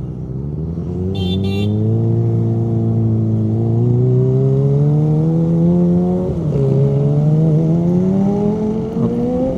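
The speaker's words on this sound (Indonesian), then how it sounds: "Motor apa nih? Oke, Ninja 25 ZX 25 kayaknya." A Kawasaki Ninja ZX-25R motorcycle engine revs steadily and loudly up close, its pitch climbing and dipping as the throttle is worked, with no voices.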